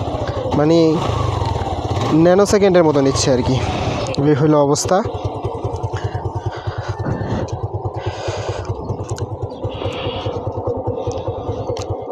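An old motorcycle engine revs in quick rising and falling bursts as the throttle opens, then settles into a loud, steady idle, with someone talking close by throughout.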